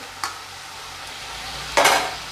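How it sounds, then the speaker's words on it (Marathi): Fresh, tender pokla (amaranth) greens go into a hot tempering in a pan, giving a brief clatter, a steady background sizzle and a louder burst of frying and stirring near the end, with no voices. "आता आपण भाजी फोडणी घालूया"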